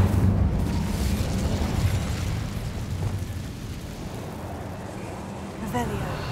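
A fire spell cast in the Hogwarts Legacy video game, a heavy rushing burst of flame and rumble that slowly fades out, with a brief voice near the end.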